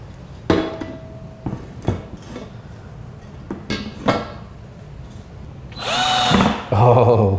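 Short bursts of a power drill whirring amid clanks and knocks of parts being handled while assembling a rolling coffee table, ending with a longer loud buzzing run.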